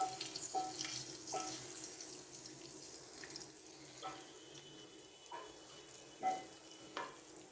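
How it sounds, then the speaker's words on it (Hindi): Gajar ka halwa, a carrot pudding with fried dry fruits, roasting in a pan on high flame, soft sizzling with scattered stirring scrapes, faint and close, no voices. "हाई फ्लेम पे हम इसकी तकरीबन 10 से 12 मिनट के लिए भुनाई करेंगे।"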